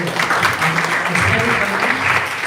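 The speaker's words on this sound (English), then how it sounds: "And a big round of applause, please, for" Audience applause for a panel at a youth innovators internship event, steady continuous clapping throughout with voices murmuring underneath.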